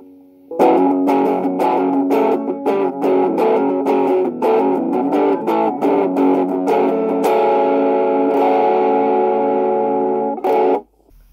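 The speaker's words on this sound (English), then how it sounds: "And you've just gotten your first effect, which is distortion." A Stylophone Gen X-1 plays through an amplifier with its distortion effect on. Loud, fuzzy buzzing notes come in a quick staccato run, then change to long sustained tones before cutting off abruptly.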